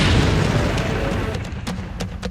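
A drone blast near a national monument in Lviv, western Ukraine: a loud booming roar that decays over about a second, followed by scattered sharp cracks.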